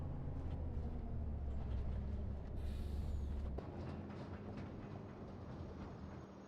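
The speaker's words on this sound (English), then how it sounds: "Electric transport truck." An electric transport truck drives in Farming Simulator 25, giving a loud, steady low drone with a brief brighter whine in the middle before it settles into a slightly quieter rumble.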